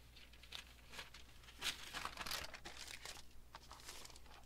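A scrap of paper is crinkled by hand during a craft session, giving soft, close rustling and crackling in irregular bursts over a faint low hum.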